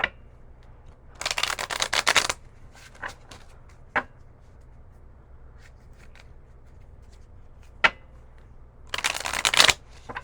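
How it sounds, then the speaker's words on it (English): Decks of playing cards being shuffled into four piles: two loud bursts of riffling, several seconds apart, with quiet card handling and taps in between. "Getting them all 4 piles shuffled, and then we're going to deal them out."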